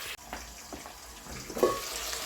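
Lamb frying in a pan with onion, a quiet continuous sizzle with faint stirring scrapes and a slightly louder stir toward the end.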